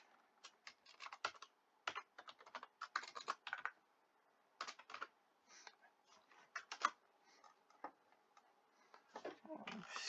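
Rapid, close typing on a computer keyboard in bursts of clicking keystrokes with short pauses, quiet background and no talk.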